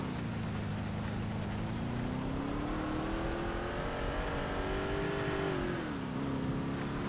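A car in GTA with the LCPDFR mod drives through snow, its engine droning steadily and shifting pitch as it speeds up and eases off, loud and continuous with no talk.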